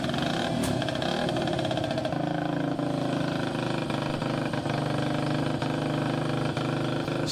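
A 1965 vintage Aramaki Sprint motorcycle with a 1972 vintage Aramaki engine racing on El Mirage dry lake: a loud, steady engine drone with a raspy buzzing tone, sustained throughout at close range.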